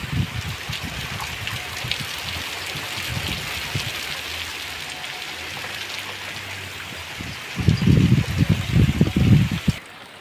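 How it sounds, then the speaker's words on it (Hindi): Rain falls steadily in a park, a continuous broadband patter with a brief louder burst of closer drops or gusts near the end before it cuts off. "ठड़ी ठड़ी हवा है नाल बारिश ही आ गई है"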